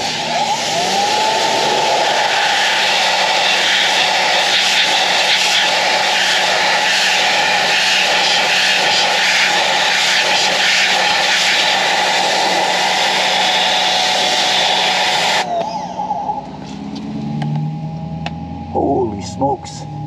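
EGO Power+ HPW3200 pressure washer on high turbo setting, cleaning brake dust off a wheel, with a loud steady motor whine and spray roar that cuts off abruptly near the end, leaving quieter rustling and trickling.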